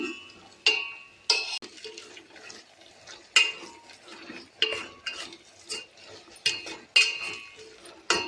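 Ginger paste frying in a pan with a spoon stirring it, giving repeated clinks and scrapes against the metal in an uneven rhythm, close and moderately loud, over a steady soft sizzle.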